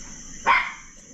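A single dog bark sounds once in a yard, short and fairly close against a quiet background.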